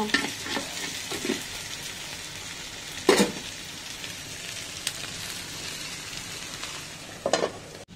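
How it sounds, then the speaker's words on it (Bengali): Okra sizzles as it is stir-fried in a pan, a steady frying hiss broken by a few louder scrapes and stirs of the spatula against the pan. "এইদিকে প্রায় আমার ঢেঁড়স ভাজিটাও হয়ে আসছে।"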